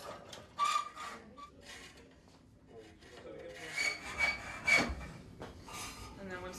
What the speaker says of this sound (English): For cutting rebar, well, you could just hold the rebar in one hand and use the hacksaw in the other.